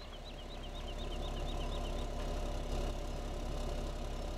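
A tractor engine in the Farming Simulator 17 video game idles and runs in a steady low drone, with a faint repeating chirp riding above it for the first couple of seconds.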